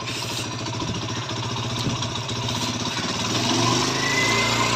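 TVS Apache BS4 motorcycle being tuned for a missing problem at 25 to 30 speed, its engine revving with a steady throbbing pulse that rises in loudness toward the end, close and continuous.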